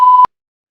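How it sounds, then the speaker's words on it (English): A censor beep sound effect, a single loud steady electronic tone lasting about a quarter second that cuts off abruptly into silence. "Now I gotta beep that."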